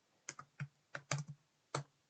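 Close, quiet keystrokes on a computer keyboard while C++ code is typed, a handful of irregular clicks in short bursts with brief pauses between them.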